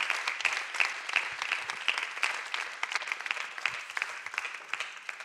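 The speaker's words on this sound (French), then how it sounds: "Est-ce qu'on peut applaudir notre Papa céleste ensemble?" A church congregation applauds at the close of a French-language sermon, steady dense clapping from a moderate-sized crowd lasting throughout without speech.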